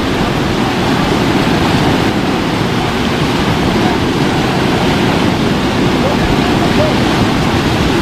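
Loud, steady roar of a strong river current rushing at a dam, dense and unbroken throughout, like a powerful current pouring over the dam close by.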